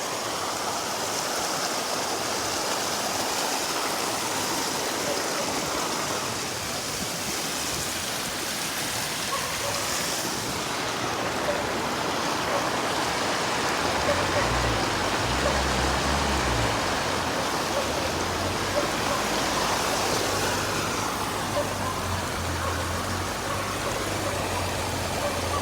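Steady typhoon rain in Occidental Mindoro, Philippines, pours down as a constant dense hiss, with a low engine rumble rising faintly partway through.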